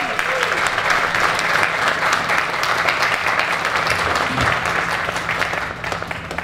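Warm, sustained applause from an indoor audience at a ribbon-cutting ceremony for Fabrica Lofts, steady and loud throughout before tapering slightly at the end.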